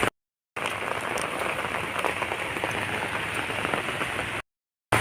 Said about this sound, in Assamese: আহোঁতেই তেনেকুৱা বৰষুণ দিয়ে আছে।